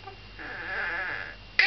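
A person imitates a sheep with a single drawn-out, wavering bleat, moderately close and alone, for a young child in a home setting.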